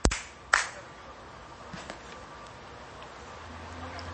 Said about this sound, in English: Okay, I'm going to do a little clapping